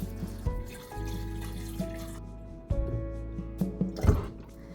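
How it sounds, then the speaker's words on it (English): Drinking water poured over herbs in a jar, a close splashing trickle with small drips and clinks, no voices. "Then add drinking water over the top of the herbs."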